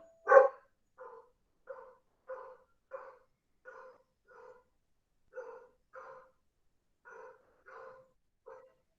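A dog barks repeatedly at a middle distance, one louder bark followed by about a dozen evenly spaced, softer barks in a steady rhythm against an otherwise quiet background.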